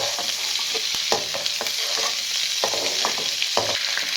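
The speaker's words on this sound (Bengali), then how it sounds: "এই চিংড়ি মাছটা ভেজে নিলাম" Shrimp fry in a hot pan with a steady close sizzle, broken by repeated utensil scrapes and taps from stirring at irregular intervals.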